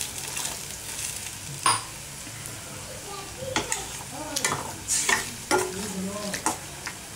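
Soft bubbling and sizzling as water and mashed tomato simmer in a pan for dal, with occasional clinks and scrapes of a utensil stirring, fairly quiet and close.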